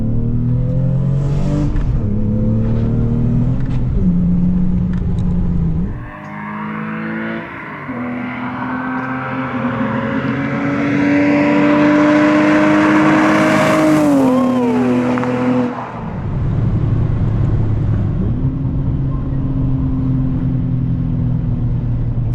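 Lexus IS300 SportCross with coilovers driven hard through turns, the engine droning and climbing in pitch through the gears, easing off and pulling again, loud and close from inside the car, with no talk.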